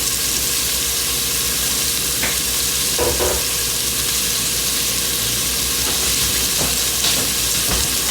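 Onions frying in a pot for a beef stew, a steady broadband sizzle with a few scraping stirs, close and moderately loud, with no voices.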